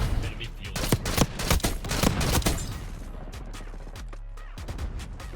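Rapid bursts of gunfire in Call of Duty Black Ops 6, likely the ASG 89 shotgun among others, crack out in dense clusters for several seconds, then ease off before a few more shots near the end; game audio rumbles underneath.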